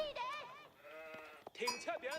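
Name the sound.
sheep bleating in Age of Empires 4 video game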